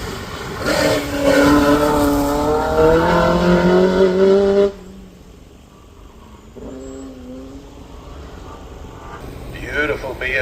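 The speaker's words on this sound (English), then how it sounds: "Beautiful BMW all the way from Carlo." BMW race car at the Craigantlet hillclimb, its engine loud and close, revving hard for about five seconds before dropping to a quieter, more distant note, with another rise near the end as a commentator talks over it.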